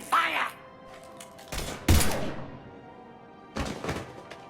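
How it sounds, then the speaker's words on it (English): Mass Effect 3 game gunfire: a few loud separate bursts and thuds, one after another, with faint game voices in the background. "Now open fire!"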